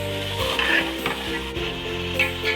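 Minced mutton keema with peas hits frying masala in a pan, giving a continuous close sizzle mixed with stirring scrapes and faint utensil taps, with a steady hum underneath.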